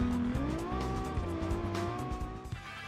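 A small Japanese-style car driving a mountain touge road in the Automation game, its engine revving through rising and falling pitches with gear changes, steady and close, with faint tire noise.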